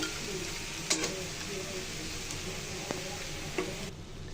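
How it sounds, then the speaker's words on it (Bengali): Fried taki fish being stirred into sautéed kalai greens in a pan, a continuous sizzle under a few scattered utensil scrapes and knocks. "সে মাছগুলো দিয়ে নাড়াচাড়া দিয়ে মিশিয়ে নিব শাকের সাথে"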